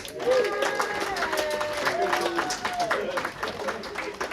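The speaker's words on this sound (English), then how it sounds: "Give a big old applause to yourselves" Audience applause fills a comedy night at Brighton Harbour Club, a steady wash of clapping from the crowd with some voices and cheering mixed in throughout.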